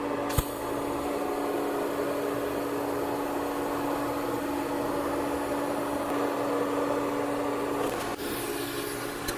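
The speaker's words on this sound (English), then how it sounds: "I can finish weld this joint now" A torch finish-welding a joint on a handmade copper water tank gives a steady, close hiss and roar with a faint hum, running evenly for about eight seconds before it briefly breaks off and resumes.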